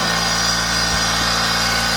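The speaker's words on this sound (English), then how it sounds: "so let's go over here and we'll start the generator" Kohler 6.5kW marine generator running steadily at close range, a constant engine drone with strong low harmonic hum and broadband hiss, no pauses over two seconds.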